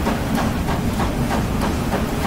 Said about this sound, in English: We'll just wait for the little train